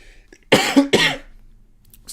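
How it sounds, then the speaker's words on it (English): A man coughs twice in quick succession, close and fairly loud, with a faint throat-clearing sound after it and quiet around it. "I don't know why I'm fucking coughing so much"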